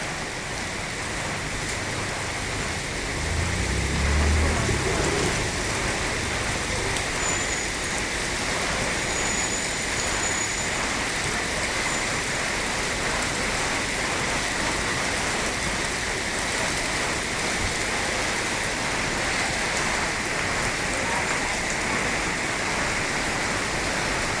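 Steady rainfall during the rainy season at a vegetable market area in Mueang Talung, a dense continuous hiss of drops on surfaces, close and even throughout with no voices.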